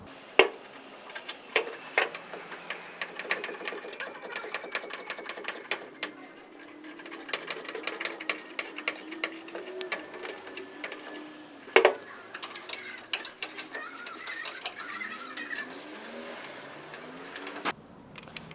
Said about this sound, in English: Then you want to tighten the top bolt on top of the frame using a 3/4 wrench or socket.